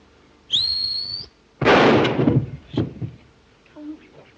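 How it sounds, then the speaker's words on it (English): A short rising whistle rings out alone, followed by a loud burst of clattering noise and a few thumps fading out. "This is no time to whistle."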